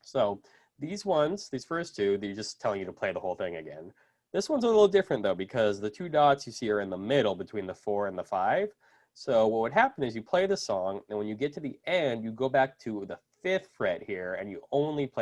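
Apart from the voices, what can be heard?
No distinct noise like a dog, phone or traffic.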